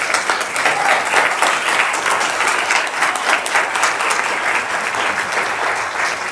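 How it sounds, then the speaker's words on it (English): Sustained applause from an audience at a school voucher forum, steady and dense clapping filling the room for several seconds without a break. "Please join me in a round of applause for our panelists."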